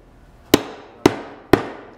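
A mallet strikes a wooden leg into a Windsor rocking chair seat three times at an even half-second interval, each blow a loud, sharp, close knock with a brief ringing decay.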